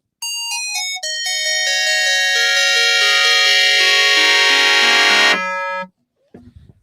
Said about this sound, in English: I'm getting actually a little bit into a bell-like territory already.